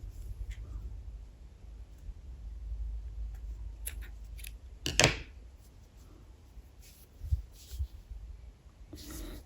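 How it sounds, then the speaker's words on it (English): Scissors snip off excess crochet yarn ends on a skirt, a few sharp, close, quiet cuts scattered over a soft background hush. "And once that's done, you can cut off this excess."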